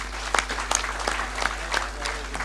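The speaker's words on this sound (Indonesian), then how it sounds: "Tepuk tangan untuk mereka." Audience applause at a cultural gathering honouring inventors and innovators, rendered as a short burst of moderate clapping with sharper individual claps standing out over a steady crowd wash.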